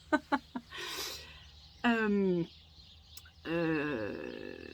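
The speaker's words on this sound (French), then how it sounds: "il y a eu plein d'oiseaux qui sont passés juste au-dessus de ma tête," Several birds squabble noisily overhead, with short sharp calls followed by two longer harsh, rasping cries, fairly clear over a quiet background.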